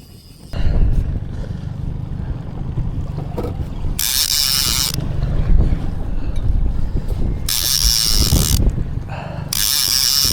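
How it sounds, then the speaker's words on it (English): A fishing reel on a boat on Lake Ontario cranks in a line with a lake trout on it, giving three bright ratcheting bursts over steady wind, engine rumble and rough waves. "So I started reeling it in and I think there's a fish on here."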